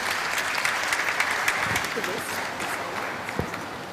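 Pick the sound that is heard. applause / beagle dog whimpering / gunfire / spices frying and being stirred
applause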